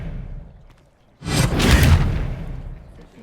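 An Expelliarmus spell cast in Hogwarts Legacy bursts out as a sudden whooshing blast. The surge of energy swells and then fades slowly over a low rumble, following a quieter stretch.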